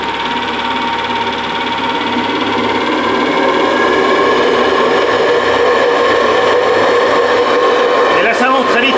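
A model steam speedboat engine fitted with a new boiler revs hard with a loud, continuous buzzing whine that climbs steadily in intensity across the stretch, close and unbroken.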